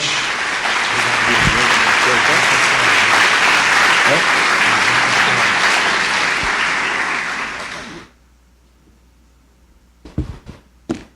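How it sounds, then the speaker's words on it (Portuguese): A church congregation applauds loudly at a worship gathering, thick continuous clapping for about eight seconds before it cuts off, followed by a brief quiet and a few short bursts of voice. "Aplauda ao Senhor bem forte."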